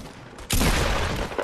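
Burst of Fortnite gunfire in a video game, a sharp onset followed by about a second of dense, loud rapid shots, with no talking.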